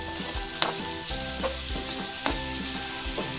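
Onion and garlic sauté in a hot pan, a steady close-up sizzle with soft knocks and scrapes of stirring recurring every second or so.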